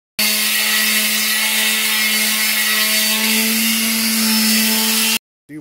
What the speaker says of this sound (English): I'm gonna sand the vital areas, the gas tank, the hood, and maybe some of this shit